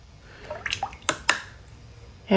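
Water added to dilute Opera Rose watercolor paint: a few soft, faint drips and wet squishes, brief and close, with no talk.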